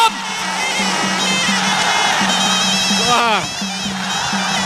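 A crowd cheers at a fight between Keo Rumchong and Adeilasi Farsoen, a broad roar under loud, whining traditional ring music with a steady, thumping drum beat, while a commentator talks over it.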